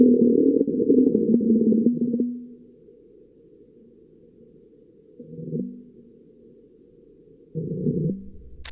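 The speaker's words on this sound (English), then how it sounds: "That was the sound of the shaking of its robotic arms." NASA's InSight lander's robotic arm shaking on Mars during a marsquake, heard as three separate bursts of low, buzzing rumble: a long one at the start, then two shorter ones, with near-silence between.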